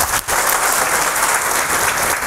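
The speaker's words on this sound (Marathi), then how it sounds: "त्यांच्यासाठी मनापासून एक वेळा जोरदार टाळ्या वाजून द्या." An indoor audience at a career guidance event in Aarni claps together in a dense, sustained round of applause that carries evenly from start to finish.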